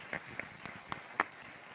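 Audience at a high school scholarship awards ceremony claps sparsely: five or six distinct, separate hand claps spaced irregularly over a quiet room.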